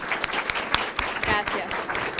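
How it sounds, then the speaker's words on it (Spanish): An audience applauds all those present at the opening of a psychology talk, scattered, uneven claps of moderate loudness with some voices mixed in. "Vamos a empezar con un aplauso para todos los presentes, por favor."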